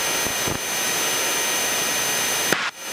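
Steady, loud drone of a small airplane engine held at about 2,300 RPM cruise in flight, a constant broadband roar filling the whole span with a couple of brief thumps near the end.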